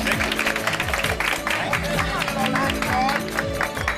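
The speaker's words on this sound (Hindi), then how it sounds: "एक बार जोरदार ताली हो जाए नंदकुमार जी के लिए, जोरदार ताली।" Steady audience applause in a TV sitcom scene, dense, continuous clapping throughout with a low rhythmic background layer and some voices underneath.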